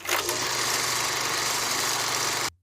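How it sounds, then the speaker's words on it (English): An old movie projector running, a steady dense mechanical whir with a low hum and fast clatter, loud and continuous before cutting off abruptly. "old movie projector"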